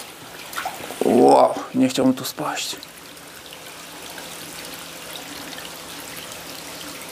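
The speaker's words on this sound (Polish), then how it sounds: "leci strumyczek, tylko żebym się tutaj nie wywalił." A small stream of water trickles in an abandoned baryte mine in Ireland, making a soft, steady pouring under a man's brief close exclamation before running on alone.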